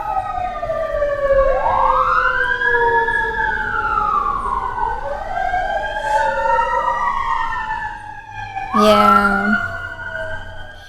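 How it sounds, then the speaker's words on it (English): Several loud emergency sirens wail and overlap, rising and falling close by, with a brief horn blast near the end and a short spoken word. "I feel like the sirens are going to get loud."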